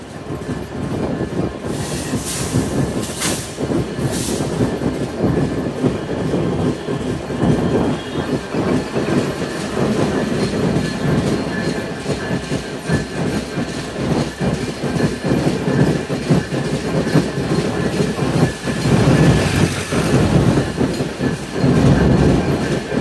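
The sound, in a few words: Intercity Ruposhi Bangla Express train running through Gandaria station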